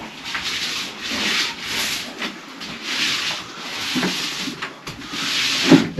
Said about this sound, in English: The faster you go with the roller, the more bits you're going to get all over.